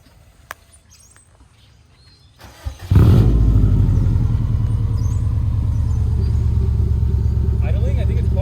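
A 2004 Subaru STI with a Tomei Ti Extreme exhaust fires up after a quiet moment, then settles into a loud, steady, deep burbling idle close by.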